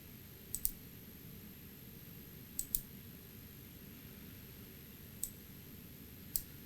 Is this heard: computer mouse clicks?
yes